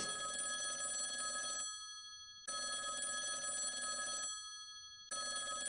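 A telephone rings in a call-in segment of a live cooking show, two long ring bursts separated by short silences, clear and fairly loud with no talking.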